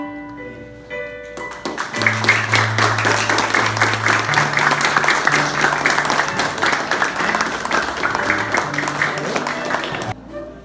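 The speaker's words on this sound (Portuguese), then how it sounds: "Podem seguir enquanto nós vamos aplaudi-los." A wedding audience claps steadily for the couple, a full room of hands applauding loudly for about eight seconds over soft background music, then stopping abruptly.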